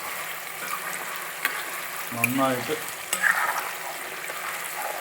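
Fish pieces for a Kerala-style fish pickle deep fry in a batch of hot oil, sizzling and bubbling steadily at close range, with a brief louder burst of spitting midway and a few quiet words spoken over it.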